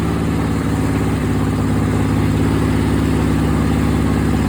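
A 1976 Sears SS16 garden tractor with an Onan engine idles loud and close, a steady throbbing chug that holds an even rhythm throughout with no voices.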